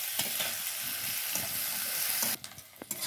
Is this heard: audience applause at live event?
no